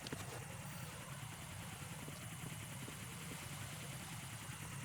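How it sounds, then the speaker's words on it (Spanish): Cypher UAV drone hovering in Metal Gear Solid 2, a steady rapid rotor chop with engine hum running evenly and fairly loud throughout, no talk over it. "Ojo, ¿qué suena? ¿Helicóptero?"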